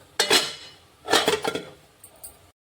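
A lid goes onto a cooking pot on a gas stove that has just been switched off, giving two close metallic clanks and clinks, then a lighter rattle as it settles.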